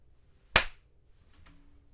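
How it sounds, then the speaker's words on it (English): A single sharp hand clap in a university lecture setting, close and crisp, followed by near silence with faint background noise. "when I clap my hands"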